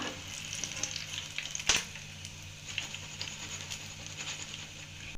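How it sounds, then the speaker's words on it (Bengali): Semolina sweets frying in hot oil give a steady, close sizzle and patter with small crackles throughout, plus one brief louder clink or scrape near the middle. "আর বাকি মিষ্টিগুলো আমি ভেজে নিচ্ছি"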